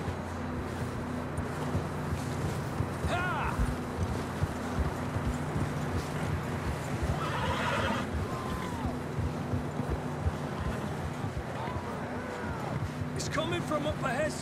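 Horses in the Red Dead Redemption 2 video game, with hooves clip-clopping steadily through a continuous outdoor ambience, a few faint whinny-like calls rising above it, while people talk over the scene.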